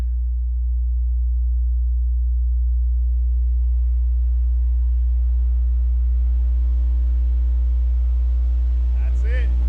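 A car bass audio system plays a steady, loud low test tone that holds throughout, with faint background noise above it.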